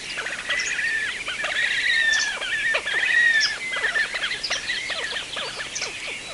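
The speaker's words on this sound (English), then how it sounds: "Here's the call of the horned grebe." A horned grebe calling, a run of rapid high squealing and trilling notes repeated over several seconds, fairly close and clear with no talking.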